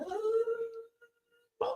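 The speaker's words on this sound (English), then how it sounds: "She only barks and howls when she's sleeping." A sleeping dog howls and whimpers during a dream, with a drawn-out mournful howl that fades and then a short louder yelp, close by.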